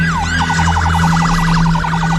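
Ambulance siren wailing loudly and close, a rapid warbling yelp after an initial falling sweep, over a low steady engine hum.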